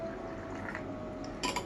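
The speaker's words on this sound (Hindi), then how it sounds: "दूसरे ग्लास में डालेंगे अल्कलाइन हाइड्रोजनेटेड वाटर।" Alkaline hydrogenated water pours steadily into a glass, a soft liquid trickle ending in a brighter splashing burst as the glass fills near the end.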